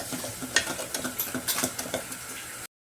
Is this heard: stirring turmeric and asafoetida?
yes